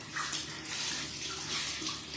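Water runs steadily from a tap while pets are bathed, a continuous close splashing rush with slight swells in loudness and no talk.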